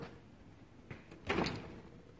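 A socket drawer in a professional's large toolbox slides open with a short rolling whoosh and a light metallic rattle, close and fairly loud after quiet handling noise.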